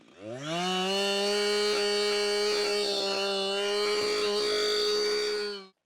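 Chainsaw with a milling attachment skimming the top of a log, a loud steady high-revving whine held for several seconds, close, before cutting off abruptly.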